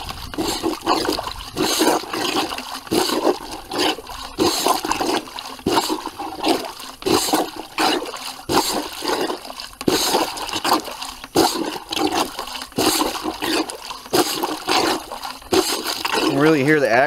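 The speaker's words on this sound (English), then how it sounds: "Now the rinse cycle is just a 30-second agitation." An off-grid washing machine agitating laundry during a short rinse in rain water gives loud, continuous churning and sloshing that surges in rough rhythmic waves for the whole stretch, close and dominant.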